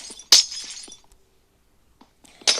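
Glass blocks shatter in Minecraft with two sharp, bright breaking crashes at the start and end, separated by soft clicks and a brief quiet stretch, with no voices.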